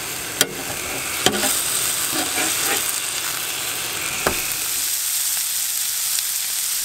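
Steak sizzles steadily in a pan over a campsite fire, a bright continuous frying hiss broken by a few sharp clicks and pops, close and loud with no talking.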